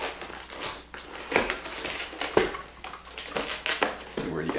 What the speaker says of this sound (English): Let's take out the keyboard.